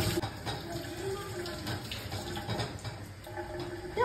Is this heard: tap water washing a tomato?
yes